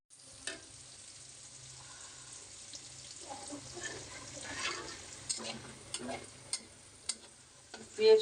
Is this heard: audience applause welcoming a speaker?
no